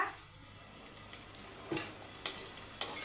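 A spoon stirs cooked rice with capsicum in a pan, making a soft sizzle with light scraping and clinking strokes roughly every half second, close and fairly quiet.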